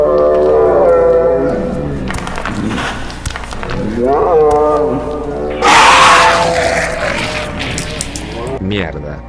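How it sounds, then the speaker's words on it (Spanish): A distant zombie growl in an apocalypse horror story rises in rough, roaring bursts through the middle, heard under a synthetic narrating voice that carries on over it. "Un gruñido lejano se unió al sonido de los pasos, haciéndose más fuerte con cada segundo que pasaba."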